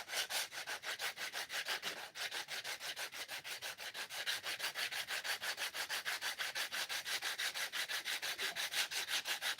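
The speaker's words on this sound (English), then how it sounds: "We're doing this pretty light. We've got a heavy grit sandpaper." A wooden box sanded by hand with coarse 80 grit sandpaper along the grain, a steady rhythmic scratching of quick back-and-forth strokes, close and fairly quiet, continuing without pause or talk.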